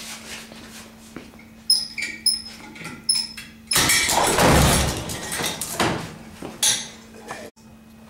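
Ram impact test on a reinforced security door delivering 350 foot-pounds of force: scattered clanks and knocks lead to one heavy booming impact, followed by rattling metal clatter and softer knocks, close by.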